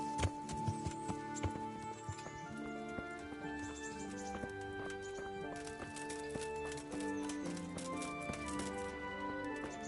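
Horse hooves clip-clop in a steady rhythm beneath layered music in the video game Kingdom Come: Deliverance, moderately loud and close.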